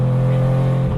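A three-rotor Mazda RX-7 engine drones loud and close at a steady high idle, holding one buzzing pitch throughout with a slight dip at the very end.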